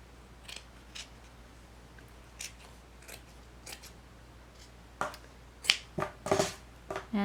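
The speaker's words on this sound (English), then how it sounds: "I'm just going to take my sharp pair of scissors and start just by trimming away the excess felt" A sharp pair of scissors snips through excess felt while making a plush toy, giving scattered faint crisp cuts at first and then a closer, louder burst of quick snips toward the end.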